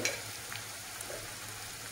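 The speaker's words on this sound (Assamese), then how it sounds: "ভাজি থাকোঁতে এয়া পিঁয়াজখিনি মজি গ'ল" Thinly sliced onions frying in a pan, a steady close crackling sizzle with a few soft stirring scrapes, moderately quiet.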